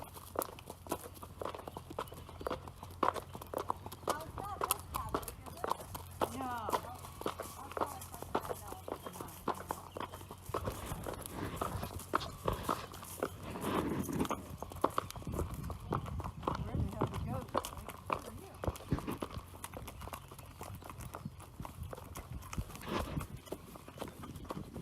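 Horse hooves clip-clopping at a steady walking rhythm on a trail ride, close and continuous, with other horses and people talking underneath.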